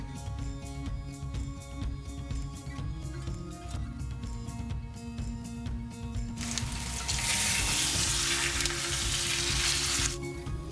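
Pork belly frying in a pan until crisp and golden on both sides, a quiet steady sizzle that swells into a louder bright hiss in the second half, with no talking.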